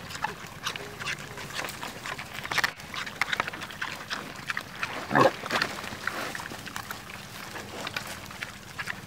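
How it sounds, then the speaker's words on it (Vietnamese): Wild boar in a herd feed in the hills, giving scattered grunts, snorts and snuffling at close to middle distance, with one louder squeal partway through, over soft rustling background. "Lúc nãy mình rất là khó tiếp cận được cái đàn heo này"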